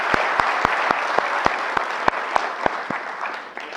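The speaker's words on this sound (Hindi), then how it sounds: "एक बार आप लोग अपने लिए ताली कर लो।" A workshop audience at an Aadhaar CSC UCL national workshop claps in a steady, evenly timed rhythm, a near, bright burst of unison applause that fades slightly at the end.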